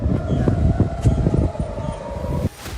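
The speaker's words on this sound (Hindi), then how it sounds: "सायरन्स हो रही हैं" Air raid sirens in Beersheba, Israel during a missile attack hold a steady, droning tone over busy outdoor noise as people run, then cut off abruptly near the end.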